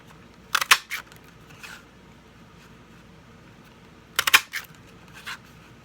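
A sprig-shaped paper punch cuts sprigs for a handmade card: two short bursts of crisp snapping clicks, several in quick succession each time, separated by quiet pauses.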